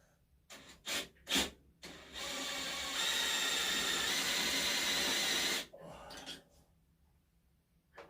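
The V-twin engine of a hot rod tractor starts after a few short cranking bursts, then catches and runs in a loud, hissing roar for a few seconds before cutting back and fading out, close by with no voices.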